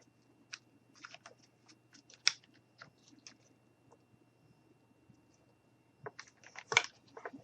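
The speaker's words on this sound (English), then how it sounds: "we're just going to cut off the extra with the scissors" Scissors snip off extra material on a handmade St Patrick's Day top hat, a series of faint, crisp, close clicks and short cuts scattered irregularly, with a quiet gap before a final louder cluster.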